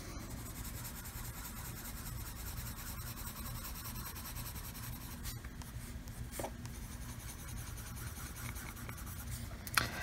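Colored pencil rubbed across paper to blend blue tones, a steady soft scratchy rasp of pencil strokes continuing close up for the whole stretch, with an occasional light tap and no talking.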